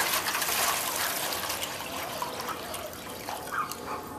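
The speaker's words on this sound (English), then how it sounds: "No big mystery to it, just some hot water. We're going to pour into one of these turkey pans." Hot water pours into a disposable turkey pan in a steady, soft trickle and splash, heard alone and fairly quiet throughout.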